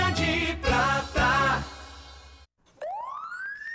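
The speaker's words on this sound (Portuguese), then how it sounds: "A sirene canta" A siren sound effect: after a tonal, voice-like passage and a short silence, a single rising electronic wail sweeps upward and holds loud and clear.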